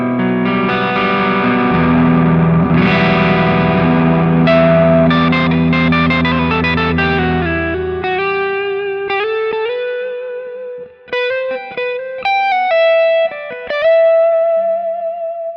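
A Gibson Les Paul Faded electric guitar played on the neck pickup rings out with a loud, effects-laden distorted tone: sustained chords at first, then a run of picked single notes.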